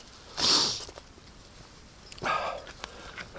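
A dog whimpers while being dragged back from the bush, two short high-pitched whines close by, separated by a pause, with faint rustling and footsteps.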